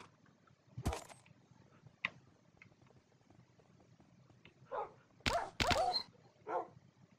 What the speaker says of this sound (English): Oh, you dumb dogs.